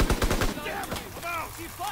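Bren light machine gun firing in the WW2 shooter game Call of Duty: WW2, a rapid burst of close, loud shots at the start that gives way to fainter game sounds and distant fire.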